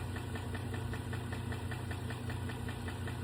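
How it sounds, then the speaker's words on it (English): A GM Silverado 2.7-liter turbo engine with a failed camshaft knocks while running, a steady rapid metallic ticking over a constant droning hum, close and even throughout with no talking. "do you want your engine sounding like this?"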